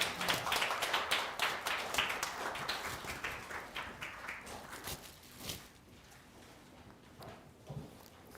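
Church congregation applauding at a founding-anniversary worship service, a dense burst of many hands clapping that fades steadily toward the end, with a few scattered claps trailing off.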